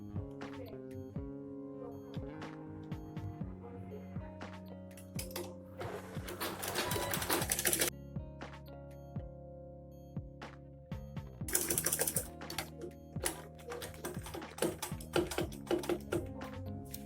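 A sewing machine stitches a box pouch lining in bursts with pauses, a steady motor whir and rapid needle rhythm, with faint handling clicks in between.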